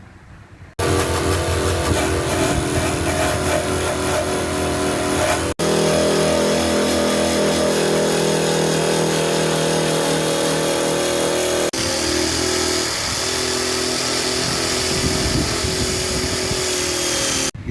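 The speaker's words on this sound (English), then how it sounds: "Start with the wire wheel." Wire wheel spinning against a rusty Ford F-150 fender, a loud continuous grinding whine with brief breaks where the pressure on the metal shifts.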